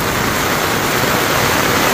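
Heavy rain falling steadily in a village, a loud, dense and unbroken hiss of downpour close by with no break.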